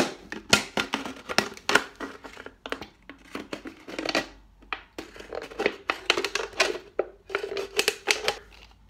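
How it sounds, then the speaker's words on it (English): A plastic bottle is cut roughly in half, giving irregular crunching snips and crackles of the plastic wall close to the microphone, with short pauses between cuts. "You cut this bottle roughly"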